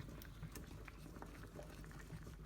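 Peppercorn sauce bubbling gently around pork chops in a pan over medium-low heat, a steady close fizzing simmer with soft popping throughout and no talk.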